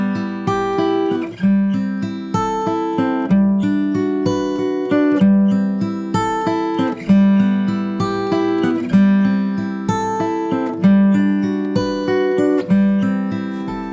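Solo guitar plays an arrangement of a song without harmonics, steady plucked chords and melody notes in an even, relaxed rhythm, close and clear with no talking.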